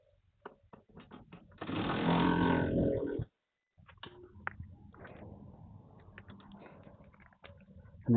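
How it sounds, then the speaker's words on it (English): A pneumatic impact gun whirs in a sustained, fairly close burst while tightening bolts on a Fiat 500's suspension wishbone, flanked by scattered clicks and clanks of parts and tools in a workshop. "Let's just whiz these bolts up quickly. We'll whiz them up with the whizzy gun."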